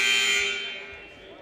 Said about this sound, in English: Buzzer goes off